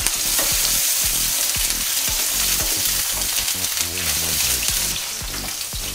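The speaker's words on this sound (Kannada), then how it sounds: "100 ಗ್ರಾಮಷ್ಟು ಪನ್ನೀರ್ ತಗೊಂಡಿದ್ದೀನಿ. ಲೈಟಾಗಿ ತುರ್ಕೋಬೇಕು." About 100 grams of paneer frying lightly in a pan for pepper masala, a loud, continuous close-up sizzle with rhythmic stirring scrapes and clicks throughout, no talk.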